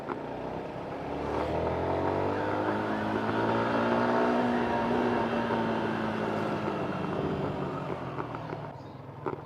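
A 2019 Yamaha Sniper motorcycle rides along a wet road, its engine note rising and holding steady with a continuous hum and whine, close and fairly loud, before easing off near the end.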